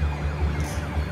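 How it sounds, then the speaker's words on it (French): Police sirens wail far off, faint and continuous over a low, steady rumble of background hum, with no voices. "Au loin, des sirènes de flics."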